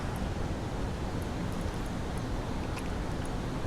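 A steady, dense rush of falling water fills the air, constant and broadband, with faint higher splashes flickering on top.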